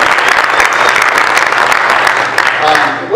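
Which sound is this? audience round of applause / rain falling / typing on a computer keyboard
audience round of applause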